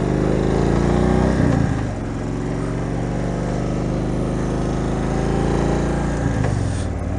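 Indian Springfield motorcycle engine with a loping cam idle, revving up through rising and falling RPM sweeps, loud and close, steady throughout with no talking.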